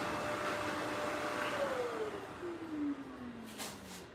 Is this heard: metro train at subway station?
no